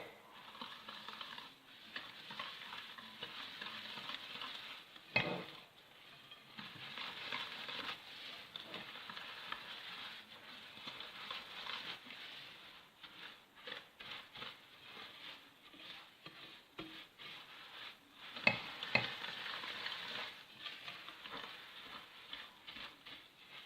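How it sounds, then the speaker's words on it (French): Semolina and coconut batter being stirred in a bowl for ghryba, a soft, steady scraping and patter that runs throughout with a few sharper knocks, at moderate closeness and without talk. "on mélange bien jusqu'à ce que les ingrédients soient bien mélangés et homogènes"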